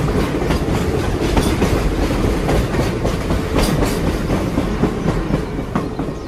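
A train rolls along the rails with a steady rhythmic clickety-clack of wheels over track joints, loud and continuous, a cartoon-style sound effect with no voices.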